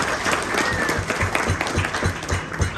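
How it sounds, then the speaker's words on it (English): An audience applauds a New York City firefighter at an American Legion honors ceremony, continuous mid-level clapping with a few sharper claps standing out, no speech over it. "Give him a round of applause as well."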